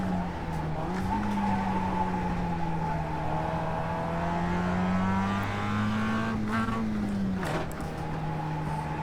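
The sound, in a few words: race car engine missed gear shift, iRacing video game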